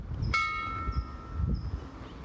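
A single memorial bell at a Memorial Day weekend flag raising ceremony at Freedom Acres Resort rings once with a bright strike, then its tone hums and slowly fades over quiet outdoor ambience.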